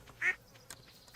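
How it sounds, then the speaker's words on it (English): Ducks quacking on a farm in the video game Stardew Valley: two short, bright quacks about a second apart, moderately loud over a quiet game background. "There are ducks around in here somewhere. We heard them quacking."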